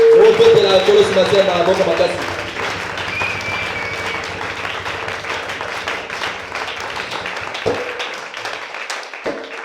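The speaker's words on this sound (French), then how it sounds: "Acclamez encore le Seigneur" A church congregation claps and applauds together, loudest at the start and then settling into sustained, scattered clapping with some voices mixed in.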